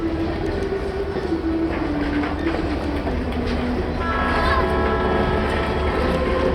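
Long passenger train moving, a steady rumble with rolling wheel noise and rising metallic squeal or whine in the second half, continuous and fairly close.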